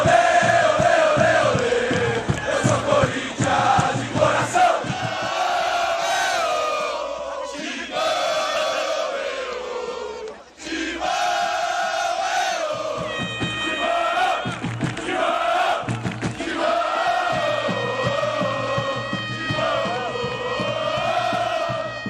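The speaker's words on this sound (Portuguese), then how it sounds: "A torcida do Corinthians cantava aquela música Vamos Corinthians" A huge crowd of Corinthians supporters chants in unison at the Maracanã stadium, a loud, continuous sung roar that briefly dips before swelling back to full volume.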